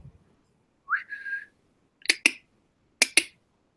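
A person whistles a single rising, wavering note, then gives two pairs of short, sharp whistle blasts, close and fairly loud, with no talking.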